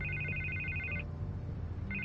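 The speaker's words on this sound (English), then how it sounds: "I can't get the phone to stop ringing." A telephone rings in the Batman Telltale video game, an electronic trilling bell pulsing about a second, pausing, then starting again over a low steady hum.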